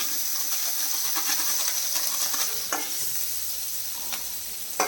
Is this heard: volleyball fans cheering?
no